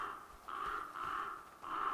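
A crow caws in the video game The Flame in the Flood, a few harsh calls in a row, fairly clear and alone with no talk over them.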